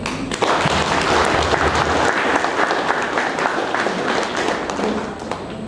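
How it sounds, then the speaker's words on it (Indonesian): An audience at a large community meeting applauds, a dense sustained burst of clapping that holds steady for several seconds before tapering off at the end. "Mari kita aplaus."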